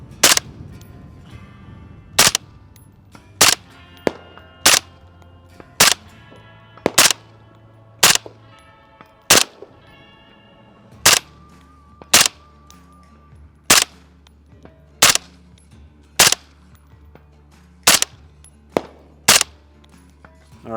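Rifle firing 55 grain PMC Bronze ammunition at an outdoor range, about sixteen sharp, loud single shots spaced evenly at roughly one-second intervals, each with a brief tail.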